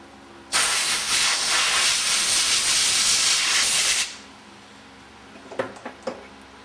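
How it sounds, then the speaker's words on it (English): Compressed air blowing solvent off the parts of a Meyer E 47 microphone: one loud, continuous hiss lasting about three and a half seconds, close by, followed by a few faint knocks. "Gently blow them off with compressed air."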